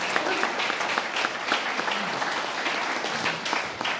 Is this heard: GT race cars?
no